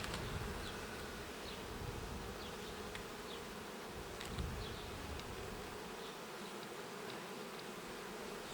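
Honeybees swarm around an open Ukrainian-Alpine beehive, making a dense, constant close-up buzz with individual bees darting past the microphone, and no voices.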